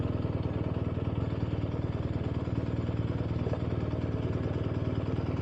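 A BMW R 1250 RS motorcycle idles while being parked, its engine giving a steady, even low throb, close and constant throughout with no talking.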